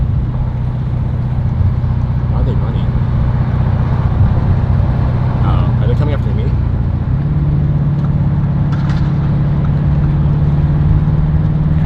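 A car engine drones loudly and close by at a steady low pitch, its tone stepping up slightly partway through, while people talk over it.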